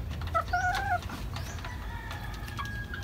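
A Sweater gamefowl hen, a brooding mother sitting on eggs, lets out a few soft clucking and warbling calls nearby, followed by a faint, longer drawn-out call over a low background hum.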